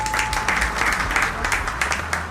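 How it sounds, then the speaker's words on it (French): Applause sound effect on a radio show plays very loud and dense, a continuous wash of clapping with no gaps. "les applaudissements ça va pas du tout, on est complètement dans le rouge"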